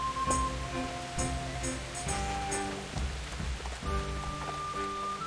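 Steady rain patters across surfaces with a constant wash of drops, and light tonal music runs underneath throughout, in the video game Kingdom Come: Deliverance.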